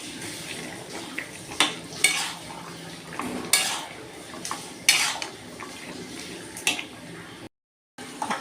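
Fried prawns tipped into a pan for Bengali kochu chingri and stirred, with a metal spoon scraping and clanking against the pan in irregular bursts over a faint sizzle.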